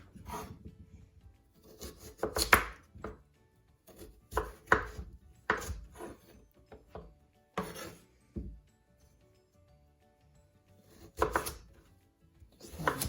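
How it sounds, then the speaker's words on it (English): Knife chopping vegetables finely for a Moroccan vegetable soup, with bursts of rapid rhythmic blade taps on a cutting board separated by pauses, close and moderately loud with no talking. "Now we will chop the vegetables very small."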